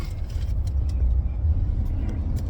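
A steady low rumble from inside a moving car, with road noise droning continuously and faint clicks and knocks of things being handled in the cabin.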